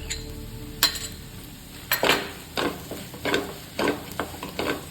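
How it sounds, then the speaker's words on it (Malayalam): Crushed green chillies sautéing with ginger and garlic in a pan for homemade puffs filling, a low sizzle punctuated by repeated bursts of spatula scraping and clinks against the pan, no speech. "ഇനി നമുക്ക് ഇതിലോട്ട് പച്ചമുളക് ഇട്ട് കൊടുക്കാം."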